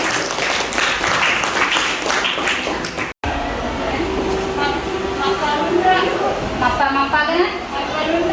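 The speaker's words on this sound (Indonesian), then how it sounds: "tepuk tangan untuk Surya" Classroom audience applauding a student during a lesson, a dense burst of clapping that briefly cuts out, then resumes under overlapping chatter and voices.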